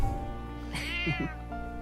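A cat in the video game Metaphor: ReFantazio gives a short, clear meow with a quick second note, over a steady game-music bed.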